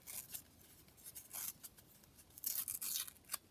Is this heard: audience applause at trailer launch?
no